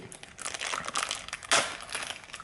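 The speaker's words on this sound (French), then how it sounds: "Je crois que je vais peut-être ouvrir le paquet." Plastic packaging around Nexus 5 earphones being opened, a continuous close crinkling and crumpling with a louder tearing crunch midway, no voices.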